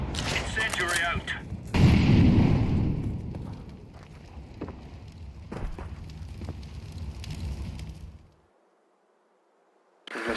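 Incendiary grenade in Counter-Strike bursting into a loud, roaring crackle of fire amid gunfire, fading out before a brief silence near the end.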